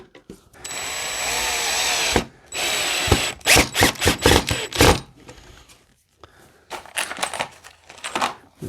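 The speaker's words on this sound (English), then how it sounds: "I want to take 2 more screws, put them up here at the top," Power drill driving screws into the side of a wooden P-51 pedal plane, a sustained whine followed by choppy rapid bursts of the motor as each screw seats, close and loud with brief pauses between.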